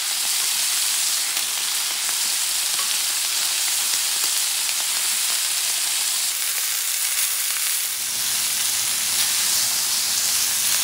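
A bison steak frying in a cast iron pan makes a loud, steady sizzle that holds without a break for about eleven seconds.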